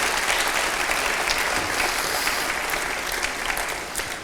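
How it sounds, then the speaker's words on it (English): Sustained audience applause at an awards ceremony, a steady wash of many hands clapping in a large room, loud and even from start to finish. "give him a round of applause"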